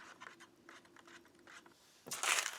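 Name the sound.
stirring hot water in a cup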